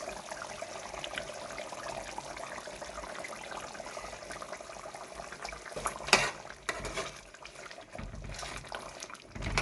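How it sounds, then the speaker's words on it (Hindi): Mutton chops fry with added yogurt as they are stirred in a pan, a low continuous sizzle and wet bubbling with scraping stirs and one sharper clink midway, close and fairly quiet. "तीन टीस्पून दही ऐड करेंगे और 5 मिनट तक भूनेंगे।"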